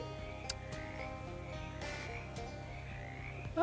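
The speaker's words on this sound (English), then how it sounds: "One of the larger frogs hops up at you and coughs loudly." Frogs croaking in a swamp within a video game, a steady low croaking chorus with a few sharper calls on top of a constant ambient bed, moderately loud and close, with no voices.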